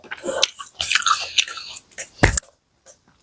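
Close, crisp bites and crunchy chewing of a raw strawberry, several bursty crunches with short pauses, ending in a sharp bite before a brief quiet.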